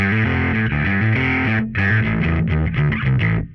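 Electric guitar through a Line 6 POD Express distortion effect plays a chunky riff of sustained power chords, loud and saturated with a brief gap midway.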